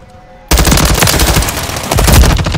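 Call of Duty MWIII multiplayer domination match with loud, sustained rapid automatic gunfire that bursts in abruptly and rattles on without pause, close and dense.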